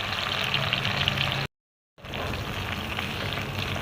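Okra fries in mustard oil in a kadai, giving a steady close hiss and sputter that cuts out completely for half a second, then resumes just as strongly.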